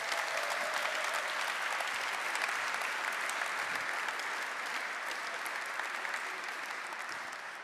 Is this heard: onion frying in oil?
no